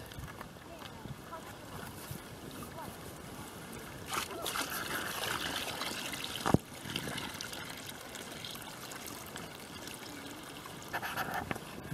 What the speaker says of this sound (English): And you can see that water flowing just perfectly down the trough.